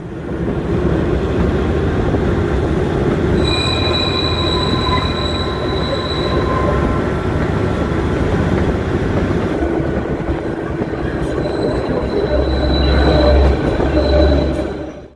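The Kalka–Shimla toy train runs along its narrow mountain railway with a steady, loud rumble of wagons and wheels, and thin metallic wheel squeals ring out over it throughout.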